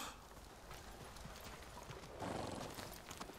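A horse in Ghost of Tsushima, with a steady wash of hoof clip-clop and ambient noise throughout and a brief, brighter whinny near the end, all fairly quiet.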